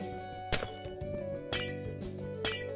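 Three crisp glass-block breaks in Minecraft ring out roughly a second apart, each a bright shattering clink over low game ambience, with no voices.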